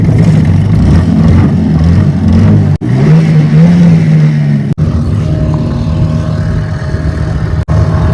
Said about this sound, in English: Engine didn't want to start for a second there